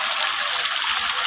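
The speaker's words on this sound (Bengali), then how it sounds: "একটু খড়াটা ধুয়ে জল দিলাম" Water pouring steadily from a tap or vessel into a freshly rinsed cooking pan, a continuous close gushing splash with no talk.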